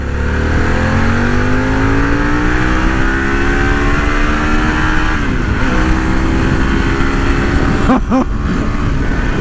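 A bagger motorcycle engine roars loud and close as it accelerates, its pitch rising steadily through the gears with a brief shift dip, under constant wind rush.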